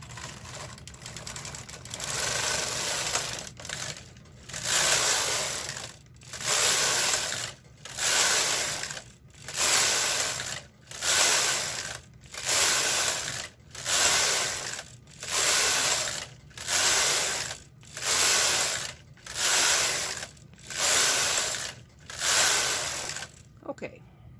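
A home knitting machine works 14 rows of a mitten at tension 6, its carriage sliding back and forth in a steady run of about fourteen even, rasping passes, each separated by a brief pause, close and loud.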